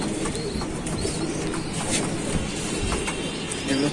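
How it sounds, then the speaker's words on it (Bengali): Pigeons inside a breeding loft of highflyer pigeons coo softly amid steady rustling and ambient loft noise, with no one speaking. "মাদ্রাজি কবুতর দেখতে পাচ্ছি"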